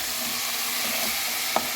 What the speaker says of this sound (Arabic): البسلة هاتي نقلبها على بعضها بقى شوية، هنقعد نقلب فيها شوية بشوية